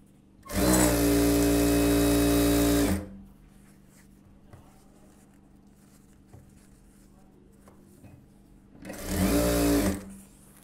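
A sewing machine runs in two loud, steady bursts while stitching a folded one-inch hem on a silk saree blouse, separated by a quieter pause with light handling noise.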